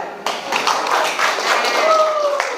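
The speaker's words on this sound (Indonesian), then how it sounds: "Kasih tepuk tangan dulu" A classroom of students clapping for a group presentation, a dense, steady patter of many hands lasting a couple of seconds, with voices and a high whistle-like tone mixed in.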